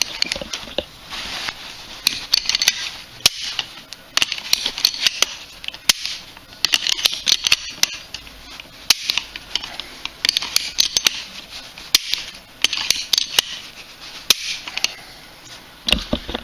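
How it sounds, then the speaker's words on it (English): Repeated dry-fire clicks from an unloaded Citadel 9mm M1 Carbine, sharp metallic snaps of the action scattered through a steady hiss, several close and distinct with no talking. "I'm going to go ahead and dry fire it"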